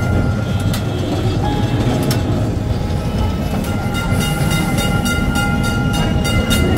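A Kolkata heritage tram rolls along street rails in old Kolkata, a loud, close rumble of wheels and car body with a faint rhythmic clatter running throughout.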